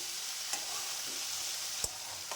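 Drumstick stalks and fried potatoes are stirred in a hot pan, giving a bright continuous sizzle with two sharp scraping knocks of the spoon against the pan.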